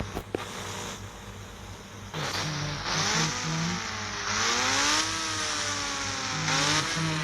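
A motorbike engine in a GTA video game revs in repeated rising and falling sweeps as it accelerates, loud and steady through most of the stretch, with a pitch that climbs and drops between gear changes.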